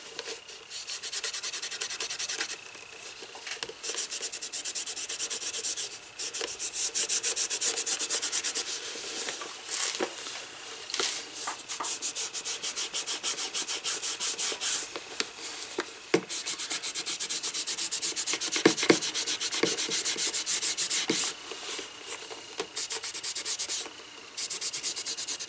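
Buffing the leather of a 1939 Luger pistol holster: continuous brisk rubbing and scrubbing strokes, close and fairly quiet, with brief pauses between passes and no talk.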